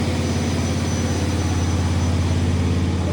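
A large floor grinder works a terrazzo floor during restoration, a loud, steady, pulsing low roar with a constant motor hum and no pauses.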